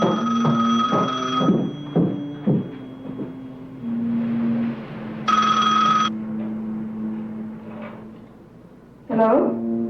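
A telephone rings in a house in repeated electronic bursts, with pauses between rings and several bursts spaced across the stretch, while a few voices speak in the gaps.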